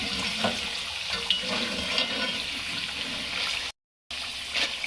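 Hot oil crackles and hisses with a dense, bubbling sizzle as batter-dipped potato pakoras fry, cutting out briefly for a moment before resuming.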